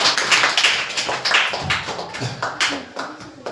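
Students in a classroom clap together in short, uneven bursts of applause, fairly close, with faint voices mixed in.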